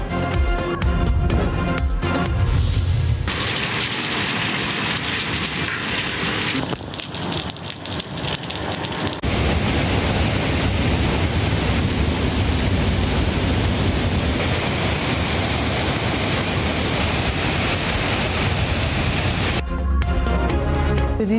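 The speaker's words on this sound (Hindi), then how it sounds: "इस्लामाबाद के मुख्तलिफ इलाकों में तेज़ हवाओं के साथ बारिश" Rain driven by strong winds across parts of Islamabad after intense heat, a loud, steady broadband wash of rainfall and gusts with no voices, its texture shifting a few times over about twenty seconds.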